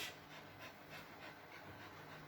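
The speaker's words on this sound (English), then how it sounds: "I hear you panting away." A small dog pants faintly nearby, a quick, even series of soft breathy huffs repeating steadily.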